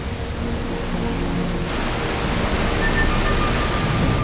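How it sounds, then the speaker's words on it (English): Steady broadband rush of a waterfall on an island, a continuous roar of falling water with no other sounds over it. "Above the waterfall, which is flowing backwards?"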